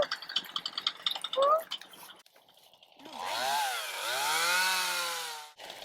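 A chainsaw revs and bogs while cutting tree limbs on a Texas farm on a snow day, its engine note rising and falling close by after some brief background talk.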